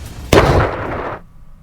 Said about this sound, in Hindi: क्राइमिया के पास समंदर में एक बड़ा ब्लास्ट हुआ।